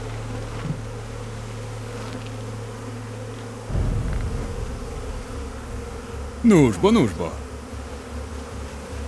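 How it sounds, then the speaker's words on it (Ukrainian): A dense, steady buzz of a swarm of bees fills the background, with a low hum and a brief spoken exclamation rising over it. "Дуже багато бджіл."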